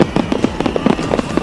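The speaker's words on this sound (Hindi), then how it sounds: "चारों तरफ पटाखों की आवाज गूंजती सुनाई दी" Rapid, crackling bursts of fireworks and firecrackers pop in a dense irregular series, a dozen or so sharp reports in quick succession, fairly close and loud.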